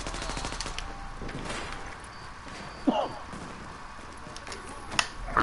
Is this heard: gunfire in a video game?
yes